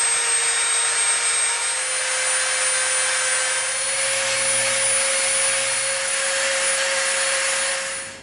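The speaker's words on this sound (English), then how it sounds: "Now what we're going to do is we are going to Dremel around all of the edges." A Dremel rotary tool rounds the edges of EVA foam pieces with a continuous high-pitched, whining buzz that stays steady and close throughout, changing only slightly as the tool presses into the foam.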